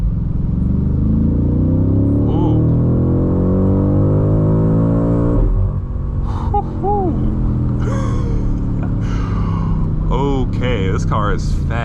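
A 2025 BMW M8 Competition pulls hard with a loud rising engine tone climbing through a gear, a quick shift, then renewed acceleration, while the driver lets out a short exclamation.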